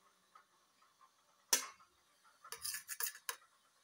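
A spoon scoops cooked food out of a pan, a sharp metal scrape followed by a quick cluster of soft scraping and clinking strokes, close and fairly quiet.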